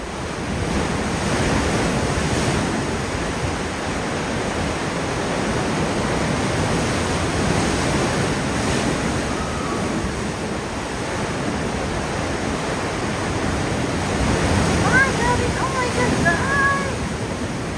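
Strong surf pounds and churns steadily against the rocky coast and a sea cave at Tung Lung Chau, Hong Kong, a loud continuous roar with wind buffeting the microphone and faint voices underneath.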